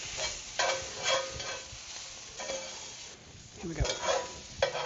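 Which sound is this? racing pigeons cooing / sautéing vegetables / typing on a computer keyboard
sautéing vegetables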